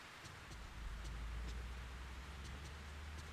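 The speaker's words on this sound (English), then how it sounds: "It's raining again." Steady rain falling in the horror video game Fatal Frame III, a soft continuous wash with a low rumble underneath and faint scattered ticks, with no talking.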